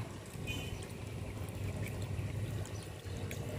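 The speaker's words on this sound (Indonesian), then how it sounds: "Sekarang kita akan siram dengan ini mikroorganisme lokal." Homemade microorganism liquid being poured over used growing medium, a soft, steady splashing trickle that runs continuously and fairly quietly, with no talking.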